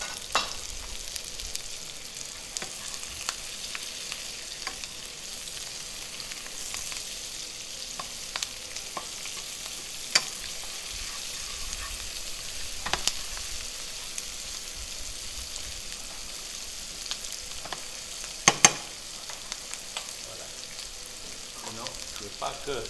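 Asparagus, garlic and onion sizzle quietly in a pan, a soft, steady frying hiss broken by a few sharp clicks and scrapes.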